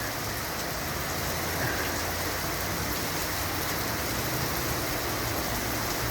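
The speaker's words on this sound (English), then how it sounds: "here comes the rain" Rain beginning to fall outdoors beside the railway in Folkston, Georgia, a steady, dense hiss of drops across the whole stretch with no talking.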